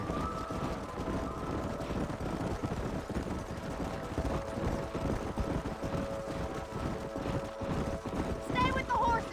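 Horses in the video game Red Dead Redemption clip-clop steadily at a brisk walk through most of the stretch, with characters' voices talking over them.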